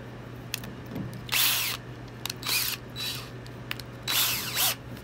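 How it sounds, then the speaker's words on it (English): Small power drill boring lead holes, line-tie and eye-socket holes into a wooden crankbait lure, several short whining bursts with clicks between them over a steady low hum. "So I'm going to drill these lead holes out, the line ties, and the eye sockets."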